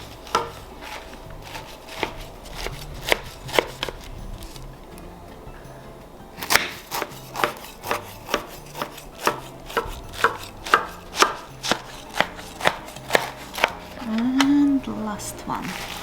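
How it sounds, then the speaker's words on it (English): A knife cuts layered walnut baklava into diamonds, giving a run of crisp, sharp cutting taps, sparse at first and then quick and steady, close by, with a little speech in places. "I like slicing mine into diamonds."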